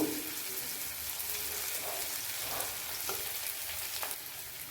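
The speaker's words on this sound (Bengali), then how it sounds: "পেঁয়াজটা একটু লাল লাল করে ভাজা হবে" Chopped onion fries in hot oil in a pan, a soft, steady sizzle and crackle that runs evenly throughout with no talking.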